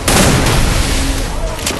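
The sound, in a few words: gunshot in a video game (Free Fire)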